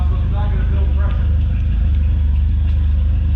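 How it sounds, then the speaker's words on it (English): A 1995 Mitsubishi Eclipse GST engine idling rich with a slight miss, a steady low throbbing rumble close by, with people talking over it. "Hey, she's idling, guys."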